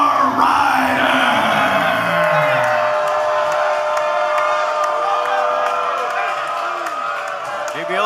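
A large wrestling arena crowd at an OVW show cheers, whoops and yells loudly and continuously as a wrestler makes his entrance, with an announcer talking over the noise.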